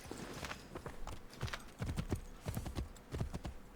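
Horse hooves clip-clopping at a quick riding gait in the video game Assassin's Creed III, a steady run of close, crisp thuds.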